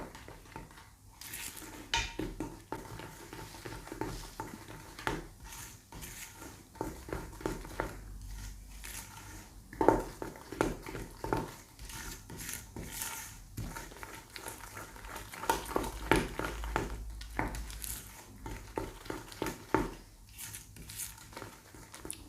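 A spoon scrapes and knocks around a bowl as royal icing is mixed, with irregular clinks and soft squishy stirring that keeps going throughout, mostly close and without talk.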